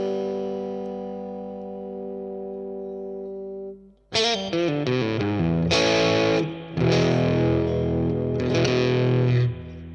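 Boss Katana Gen 3 guitar amp on its pushed tube-amp simulation setting: a sustained ringing chord fades, then bright, mildly overdriven strummed chords and riffs play loudly and alone.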